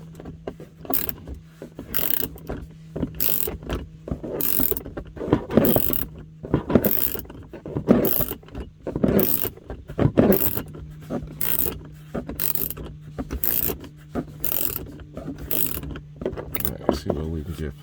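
Screw in a Ram 1500 dash being worked loose with a tool during a speaker install, a repeated ratcheting, clicking mechanical rhythm of spins with short pauses, close up, with a low steady hum underneath.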